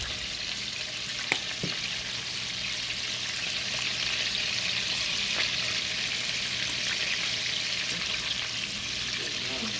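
Shrimp and vegetables with garlic, paprika and basil sizzle steadily in a hot pan, a dense, even hiss that holds for the whole stretch, with a few faint clinks and stirring taps near the start and middle.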